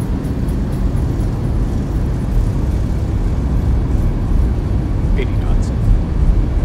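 Boeing 737 engines roar in full reverse thrust during landing in X-Plane 11, a loud, sustained broadband rush that holds steady throughout, with a faint voice briefly under it.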